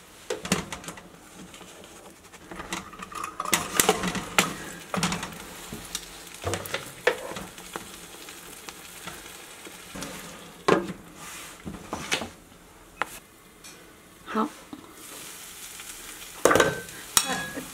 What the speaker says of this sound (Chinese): 中小火慢煎，煎至一面定型以后